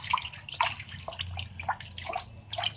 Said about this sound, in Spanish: Y paramos la cocción con agua fría.